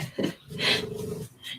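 A dog gives a brief, throaty snore with a rough, rumbling breath, close by and quiet.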